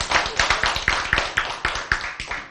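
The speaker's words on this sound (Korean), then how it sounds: "그게 뭐 그렇게 기뻐서 박수 쳐요" An audience at a lecture breaks into quick, uneven clapping, a short burst of close, sharp claps with no talking.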